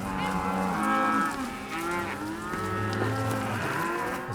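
A herd of cattle being driven uphill into the next pasture, moos overlapping continuously from several animals, some near and loud, others farther off, with no voices.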